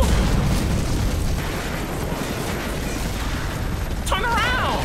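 Loud, continuous rumbling blast and debris roar from a missile explosion in Rise of the Tomb Raider, sustained through the whole stretch, with a player's excited voice shouting over it near the end.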